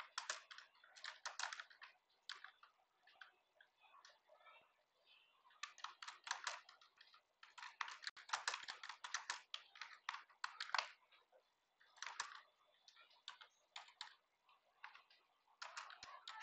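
Careful typing on a computer keyboard in a typing-practice session, with steady bursts of light clicking keystrokes broken by short pauses, close and clear, with no voices.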